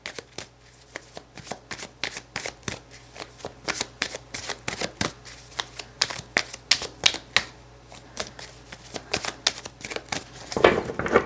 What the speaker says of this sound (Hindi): कार्ड्स को शफल करते हैं।